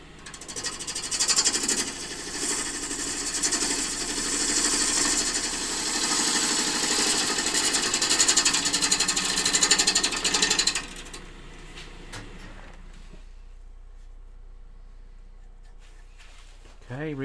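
A small cherry bowl spins on a wood lathe while a tool cuts it with a loud, continuous rasping and whirring for about eleven seconds. Then the cutting stops, leaving a quiet motor hum and some brief faint sounds near the end.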